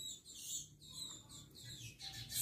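Small birds chirp outdoors in quick, high, repeated bursts, faint and somewhat distant, over a quiet low background hum in a garden where plants are being potted.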